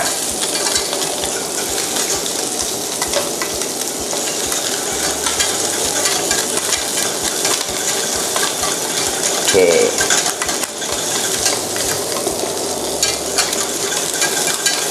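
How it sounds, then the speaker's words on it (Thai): Pieces of sea bass fry in hot oil, giving a loud, continuous sizzle with occasional clinks and scrapes of utensils against the pan throughout. "ด้านเนื้อเนี่ยเราจะทอดประมาณนาทีครึ่งถึง 2 นาที"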